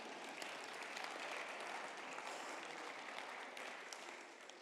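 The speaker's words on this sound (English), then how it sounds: "You can applaud, because we've never done this before." An audience at a New Thought talk gives a steady wash of clapping that stays even throughout and eases slightly near the end, quiet and somewhat distant.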